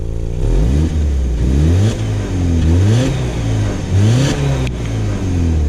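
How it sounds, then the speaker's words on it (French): A BMW E46 Compact's engine revs up and drops back several times in short, repeated bursts of throttle, loud and close, with no talking. "Ça fait des petites accels. Un petit coup de gaz."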